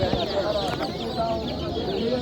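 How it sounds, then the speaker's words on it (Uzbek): Turkey chicks at a poultry market in Gijduvon make a dense, busy chorus of close, high peeping, with faint murmuring voices of market-goers underneath. "Kurka jo'ja."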